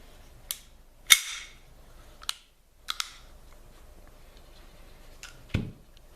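Alarm pistols (blank guns) fired in a row, several sharp cracks spaced irregularly, close and loud against a quiet background, with faint clicks of handling between shots.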